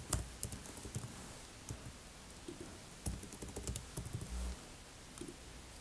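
Faint keystrokes on a computer keyboard come in short irregular bursts and single clicks over a quiet background.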